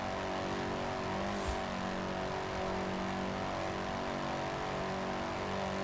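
A naturally aspirated engine with large displacement for a small front-wheel-drive car holds a steady, loud drone with a continuous harmonic tone in a Forza Horizon 4 rally race, with no speech.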